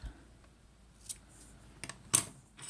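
Scissors snip through crochet yarn at the end of a treble crochet stitch piece, giving a few quiet, short clicks with one sharper cut near the end, alone in a faint room.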